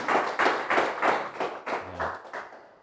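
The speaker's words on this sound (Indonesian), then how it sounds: "Tepuk tangan buat beliau." A short burst of audience applause at a business seminar, several rhythmic claps blending into a crowd clapping, fairly loud and close, with no talking.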